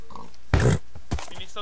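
A short synthetic Minecraft pig oink, with a couple of brief grunts after it, over faint background noise.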